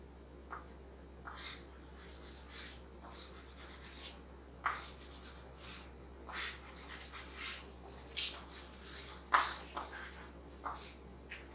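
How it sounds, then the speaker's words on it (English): Pen or pencil drawing a Wheatstone network circuit diagram on paper, with faint scratchy strokes in short irregular bursts and soft breathing, heard close and quiet. "And here we will draw a Wheatstone network."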